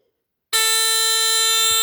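A vintage 1965 Fedtro Giant FA-1 fire heat alarm, made in Japan, bursts into a loud, steady high-pitched electric ring after a moment of silence and keeps sounding without a break.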